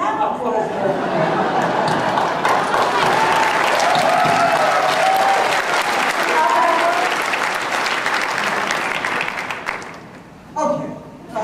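Audience applause at a TrekFest 2009 fan Q&A, a sustained dense clapping from a large crowd with some chuckles mixed in, holding steady for about ten seconds before fading out.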